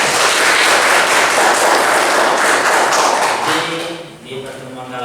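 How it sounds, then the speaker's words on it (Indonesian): A classroom of students claps together in a vocational school accounting lesson, a loud burst of dense applause lasting a few seconds before thinning out as a voice begins speaking. "Oke, tepuk tangan."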